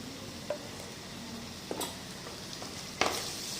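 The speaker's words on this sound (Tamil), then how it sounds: "இதையெல்லாம் வந்து கொஞ்சம் நேரம் நல்லா இதை கிண்டி விட்டுக்கிறோம்" Masala gravy for egg curry is stirred in a pan over a faint, low sizzle, with a few scattered soft scrapes and taps of the spoon. The whole passage is quiet and there is no speech.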